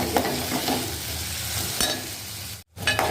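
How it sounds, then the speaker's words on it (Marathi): Tomatoes sautéing in a pan with onion, a steady close sizzle and frying hiss broken by a few stirring scrapes and one brief silent gap near the end. "टॅमॅटो घेतले ते टाकायचं तेही आपण परतून घेऊया"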